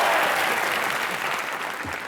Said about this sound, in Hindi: जोरदार तालियां ठोको जरा